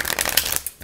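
Tarot deck shuffled by hand, a quick riffling, flapping card sound running close and steady for most of the moment before easing off near the end.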